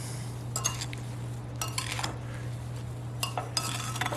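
Spoon stirring strawberries with sugar in a dish, a close series of scraping, clinking strokes in irregular bursts over a steady low hum.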